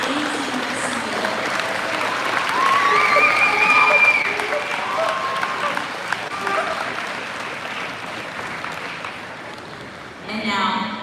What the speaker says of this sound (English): Please give a huge round of applause to our amazing, beautiful contestants that did absolutely amazing this year.